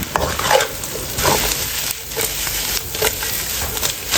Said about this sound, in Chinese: 这下开火开炒